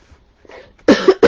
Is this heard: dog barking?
no